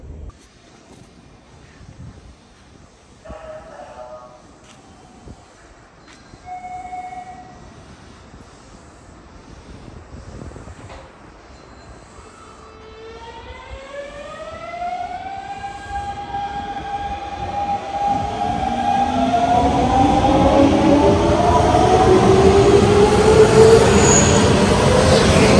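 A train pulls into a Japanese station, starting as faint distant rumble with a few brief tones, then swelling into rising whining motor pitches and loud wheel noise as it draws near; no speech.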